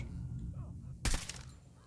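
A single sharp gunshot in the video game Call of Duty, a brief loud crack over a steady background of game noise.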